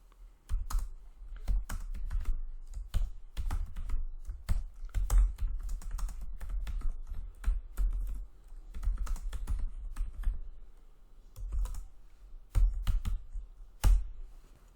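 Python code being typed on a computer keyboard makes close, crisp key clicks in irregular bursts and short pauses, with no talking over them.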